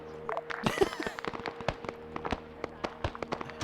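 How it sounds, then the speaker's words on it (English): A white phosphorus round bursts in a Vietnam War video game with a quick crackle of popping, firecracker-like reports, followed by scattered sharp snaps and taps that trail off over a few seconds. "That was a Willy Pete that just went off."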